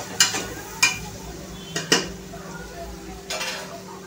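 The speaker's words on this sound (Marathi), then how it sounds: "हा सुक्का मसाला आणि भाज्या छान फ्राय करून घ्यायच्या आहेत तेलामध्ये 1-2 ते 3 मिनिटं" Dry masala and vegetables frying in oil, a few sharp spoon knocks and scrapes on the pan over a low sizzle, close and unhurried.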